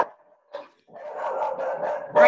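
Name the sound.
dog barking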